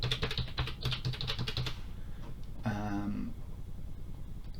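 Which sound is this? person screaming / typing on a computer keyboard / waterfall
typing on a computer keyboard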